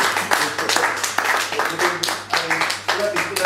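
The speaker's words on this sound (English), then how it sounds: "Give this man a huge round of applause." A small group gives a man a round of applause, with uneven, distinct hand claps in a loose rhythm while voices talk and cheer over them.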